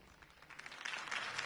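Crowd applause following Harvey Dent's campaign speech, a broad wash of clapping that swells and grows louder toward the end, with faint voices mixed in.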